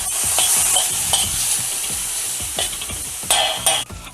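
Tantuni meat with chili flakes is stirred in a hot pan, with a loud continuous sizzle and repeated scraping and clinking of a utensil, close by.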